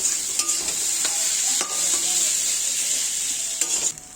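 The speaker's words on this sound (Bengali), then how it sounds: "এই ম্যাগি মশলা দেওয়া হচ্ছে" Chow mein noodles fry in oil in a home pan, a bright continuous sizzle broken by repeated spatula scrapes and stirring knocks, close and fairly loud with no voices.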